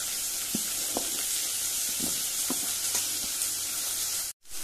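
Finely chopped onions fry in a pan for Goan-style drumstick bhaji, a close, loud, steady sizzle with occasional stirring scrapes and pops, then a brief cut near the end.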